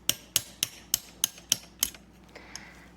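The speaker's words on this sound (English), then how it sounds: "let me go and get a little tap and a little hammer and do that" A small hammer taps a tap into a Kenmore sewing machine part, about seven quick metallic strikes at a steady rhythm, then a few softer knocks and light scraping, close and clear.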